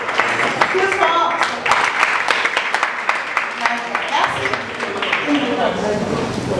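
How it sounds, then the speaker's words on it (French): Audience applause for panelists at a civic-engagement event on youth and women's participation in communal elections, steady and dense, with voices mixed in. "C'est tout ce qu'on a mérité comme applaudissement."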